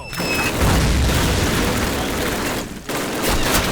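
Dense gunfire and booms in the original Call of Duty, a loud, continuous barrage of overlapping shots with a brief lull near the end before firing resumes.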